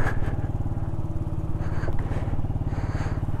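A scooter engine held at wide open throttle while riding on the road, a steady close buzzing drone with rapid regular pulses throughout and no talking.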